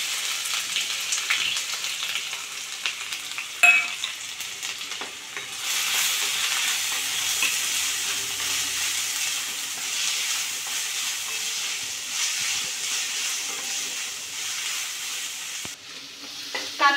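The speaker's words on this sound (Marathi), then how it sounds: "कांदा आपण चांगला गुलाबी रंगावरती मस्त परतून घेणार आहोत" Finely chopped onion sizzles and is stirred in hot oil already crackling with mustard seeds and cumin, a steady close frying hiss broken by the clink and scrape of a spoon against the pan.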